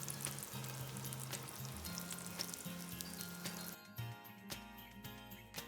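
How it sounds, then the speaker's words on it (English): A piece of chicken fries in hot oil, giving a steady, close sizzle with a soft bubbling crackle throughout, and a quieter hissing tail after a short clatter. "Yes, the oil is hot enough. Then in goes the chicken piece. and let it get fried for around 6 to 7 minutes"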